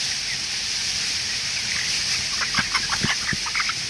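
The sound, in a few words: chicken clucking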